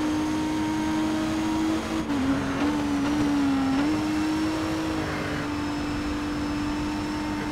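Racing car engine in DTM Race Driver 3, a steady loud drone holding a sustained pitch with a brief dip and rise midway, continuous throughout without talk.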